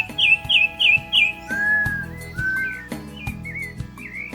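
Birds call at a feeder in the Caatinga, with a rapid run of four sharp chirps followed by longer clear whistled notes and softer tweets, close and bright against faint background sounds.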